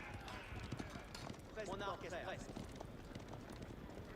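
Horsemen's hooves clopping in Age of Empires IV, a faint, busy patter of many hoofbeats with a brief whinny-like cry midway, under a continuous bed of battle noise and talk.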